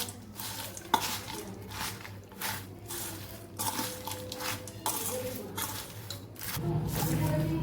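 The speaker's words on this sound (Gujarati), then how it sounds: "હવે આપણે ભેળને મિક્સ કરી લઈશું." Navratri farali bhel is mixed with curd and lemon in a bowl, with repeated soft scraping and clinking of a spoon against the dish in an irregular rhythm, close up.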